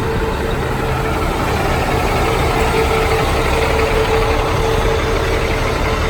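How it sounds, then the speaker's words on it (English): Idling truck engines at the TA truck stop in Big Spring around midnight, a steady loud low rumble with a faint whine that holds constant throughout and has no talk. "The TA truck stop in Big Spring."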